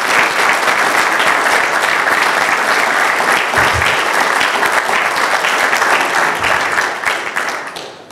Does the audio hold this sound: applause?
yes